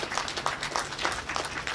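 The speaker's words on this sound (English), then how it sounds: "Give them a nice big round of applause." Applause from an outdoor crowd at a firefighters' memorial dedication after a pipe and drum band performs, a dense, steady patter of many hands clapping at moderate distance with no talk over it.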